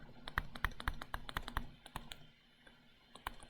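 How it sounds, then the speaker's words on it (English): Rapid bursts of calculator key presses, a quick run of close, crisp clicks then a pause and a few more taps, heard alone in a quiet room. "I'm going to type into my calculator whatever 17 times 7 is"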